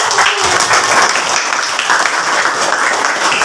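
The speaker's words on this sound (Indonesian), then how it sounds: "Terima kasih tepuk tangan." Classroom applause from a group of students after a lesson, steady dense clapping that stays loud and even throughout.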